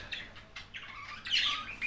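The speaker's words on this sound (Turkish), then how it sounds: "Kuşlar rahat bir ortamda şu an gördüğünüz gibi uçabiliyorlar, hareket edebiliyorlar." Small birds chirp and squawk in short, bright bursts close by, a few overlapping calls over a quiet background.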